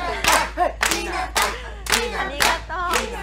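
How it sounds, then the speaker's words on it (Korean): Shop staff in a film scene clap out a rhythmic 3-3-7 cheer together, with short bursts of group clapping and shouts separated by brief pauses, loud and close. "업소 직원들은 337 박수를 치면서 그런 히나타를 응원해 줍니다"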